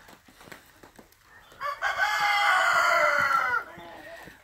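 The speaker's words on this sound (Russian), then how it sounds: "Здесь у меня все петухи." Roosters in a backyard summer chicken coop crow one long, loud call after a few soft clucks, close by and with no talk over it.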